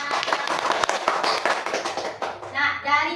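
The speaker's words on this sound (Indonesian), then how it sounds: "Tepuk tangan untuk semuanya." Schoolchildren clap together in a classroom, quick uneven hand claps at close range, and a voice breaks in near the end.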